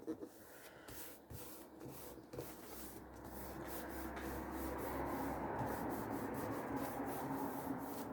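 Paper pages being trimmed to size for handbag-size notebooks, giving a quiet, steady rubbing and rasping that starts faint and thickens into a continuous scratchy hiss.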